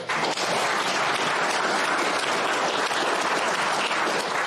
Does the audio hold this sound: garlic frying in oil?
no